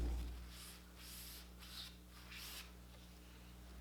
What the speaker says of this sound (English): Wipe off the squeeze out and let it dry.